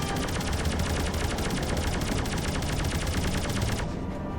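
A relentless stream of rapid machine gun fire from the space game Rodina, loud and continuous, close up, with no pauses throughout.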